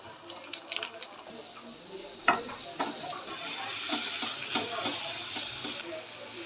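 Vegetables and egg chowmein are stirred and fried in a pan, giving a soft sizzling hiss with scattered scraping clicks and a sharper clank partway through. A voice talks quietly over the cooking.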